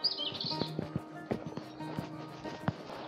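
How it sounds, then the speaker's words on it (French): Birds chirp by the Brague river on a forest trail, a high twittering trill near the start with sparse calls after, mixed with rhythmic clip-clop-like thuds and footsteps close by; moderately quiet throughout. "que le bruit des oiseaux."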